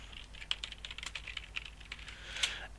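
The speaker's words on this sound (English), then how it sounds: "Just typing it." Fingers tap steadily on a computer keyboard, a quick irregular run of soft, close clicks with a few sharper keystrokes, quiet and alone with no voices.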